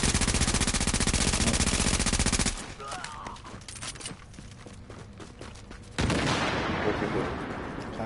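Gunfire in the video game The Division: dense, rapid automatic bursts for about two and a half seconds, a quieter stretch of scattered shots and movement, then another loud sustained volley near the end.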